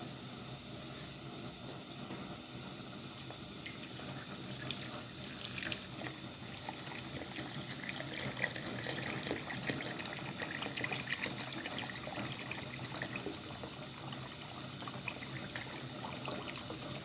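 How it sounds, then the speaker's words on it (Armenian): Water pours steadily from a kettle into a cooking pot in a home kitchen, a continuous close splashing trickle that runs throughout with no speech. "հիմա էլ թեյնիկից ջուր լցնեմ, որովհետև մսի ջուրը այդքան շատ չէր"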